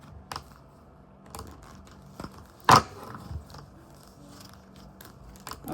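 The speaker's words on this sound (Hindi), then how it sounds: "तो मैं कार्ड शफल कर लेती हूँ।" Tarot cards are shuffled by hand close up, giving soft intermittent flicks and slaps with one sharper snap midway, in a quiet room without speech.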